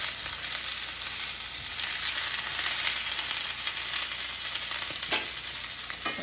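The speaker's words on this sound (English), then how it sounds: "The cast iron skillet's a great skillet to use for searing." Meat sears in a cast iron skillet with a loud, steady, bright sizzle that holds evenly throughout, with a single faint clink near the end and no talking.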